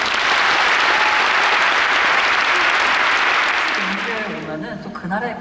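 A concert audience at an opera recital applauds loudly and steadily for a soprano, the clapping dense and sustained before tapering off as voices begin to come through near the end.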